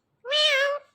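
A ringneck parrot imitates a cat, producing one clear, close, drawn-out meow lasting about half a second against silence.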